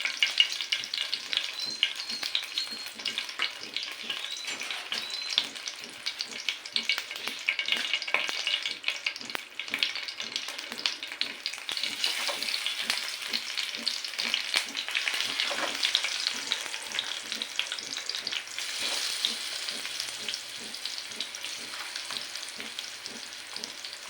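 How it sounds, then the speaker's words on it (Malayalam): Fish fries in hot oil with African coriander over low heat, a continuous crackling sizzle with dense popping throughout, close and alone. "ഇത് ലോ ഫയറിലാണ് ഫ്രൈ ചെയ്തെടുക്കുക."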